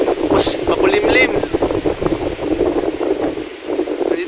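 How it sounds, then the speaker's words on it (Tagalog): Strong wind gusting outdoors near a village hall under a darkening sky, a loud, continuous rushing roar buffeting the microphone, with people talking over it throughout. "Ang lakas ng hangin, ayan o."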